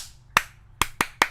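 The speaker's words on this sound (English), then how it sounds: "Look at everybody clapping" Four sharp, isolated hand claps or snaps, close and crisp, spaced unevenly across a second with quiet between them.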